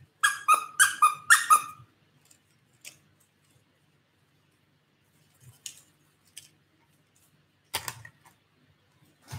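Squeaky toy squeezed in a rapid run of five short, bright squeaks, followed by a few scattered, fainter single squeaks with long quiet gaps between them.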